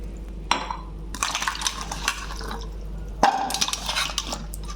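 Jackfruit seeds are rinsed by hand in water, with splashing, sloshing and light clinks of a pot over a steady low hum, close and moderately loud, without speech.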